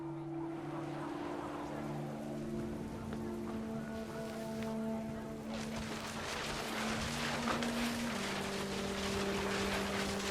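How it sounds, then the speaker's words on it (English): Heavy rain pours steadily in What Remains of Edith Finch, a dense continuous wash over sustained musical tones, growing fuller and louder partway through. "The rain came down in buckets then"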